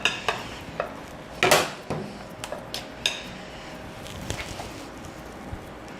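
Metal scraper dragged against buttercream icing on the sides of a layer cake spinning on a turntable, giving soft intermittent scrapes and light clinks close by, with no talking.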